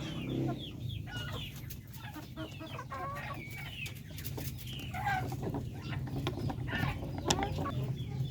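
Darag native chickens cluck steadily at close range, many birds overlapping in a continuous farmyard chorus with a low background hum and no talking.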